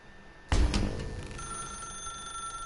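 A telephone in The Stanley Parable gives one sharp, loud ring burst in a dark room, then decays into a lingering tonal hum. No one speaks.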